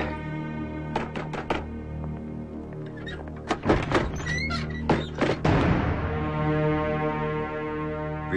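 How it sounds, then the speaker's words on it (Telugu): A door opened in a tense film scene, with several sharp thunks and knocks, then a louder rattling clatter over a steady low background hum. "తలుపు తీయండి"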